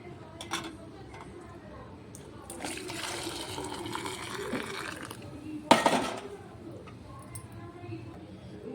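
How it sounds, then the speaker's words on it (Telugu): Water poured over hot brass puja vessels hisses and splashes in bursts, with light clinks of dishes and occasional muffled voices. "వాటి మీద ఈ వాటర్ పోసి పెడుతున్నాను క్లీన్ చేయడానికి"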